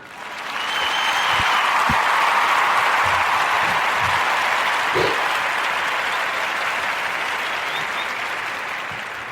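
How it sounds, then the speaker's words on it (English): A live audience bursts into warm, sustained applause, dense clapping swelling quickly and holding steady before slowly tapering, with a few scattered louder claps and brief cheers mixed in. "give him a warm round of applause in a big way"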